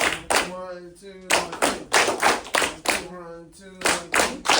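Students clap their hands in unison at a school rehearsal, a regular train of sharp, loud claps with brief pauses where a voice calls out the count.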